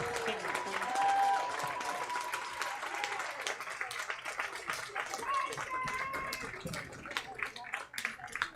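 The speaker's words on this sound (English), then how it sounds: "Let's give them all a big round of applause." A stadium crowd at a high school football game between Princeton and Lakota West claps and cheers for the homecoming court, with scattered voices mixed into the ongoing applause.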